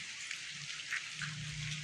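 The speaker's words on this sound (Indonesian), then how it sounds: "total keguyur hujan ya" Steady rain falling near a river and estuary, a soft continuous patter with scattered drops and a low rumble beneath, fairly faint, no voices.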